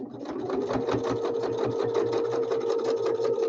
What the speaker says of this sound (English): I might sew that in instead of gluing it.